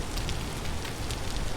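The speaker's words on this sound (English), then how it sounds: "Because it's raining." Rain falls in the survival video game Vintage Story, a brief, steady hiss of drops pattering on surfaces with a faint crackle.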